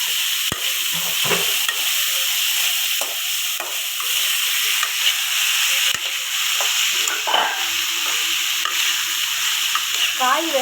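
Tomato, onion, carrot, beans and peas sautéing in a pan for kichadi, a steady close sizzle and frying hiss with occasional stirring scrapes and clinks, no talk.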